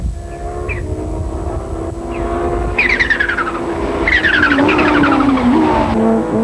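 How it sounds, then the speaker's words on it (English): Audi race cars at the Kyalami circuit roar past the start-finish line, engines rising and sweeping by at high revs with tire squeal, loud and close throughout. "As the Audi pair swept past the start-finish line for the first time"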